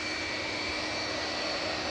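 Steady, continuous engine roar from a Jet2 airliner at Manchester Airport, heard from a distance at even loudness with no talk.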